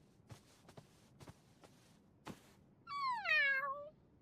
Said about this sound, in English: I thought I heard you talking to someone, but it was just the kitty.